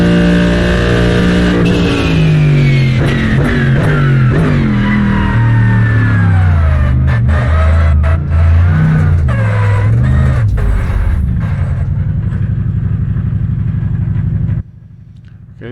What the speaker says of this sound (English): So that's what the engine sounds like.